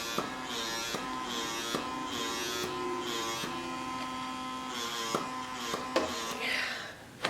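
A PMD microdermabrasion machine buzzes as it runs over facial skin, a steady close electric hum with occasional clicks and shifts in pitch as it moves.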